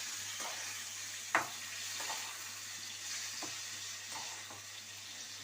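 Tomato and green chili pieces frying in a pan, a faint steady sizzle with a few soft stirring knocks, one sharper tap near the start, close and quiet with no talk.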